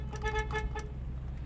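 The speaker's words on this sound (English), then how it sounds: "horn." Several short, faint honks from the horn of a 1965 Ford Mustang, a quick cluster of toots in the first second, followed by quieter low engine idle.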